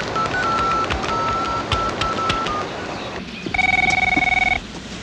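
A telephone rings close by in a comedy sketch, with repeated electronic ring tones starting and stopping, followed by a louder burst of rapid pulsing beeps.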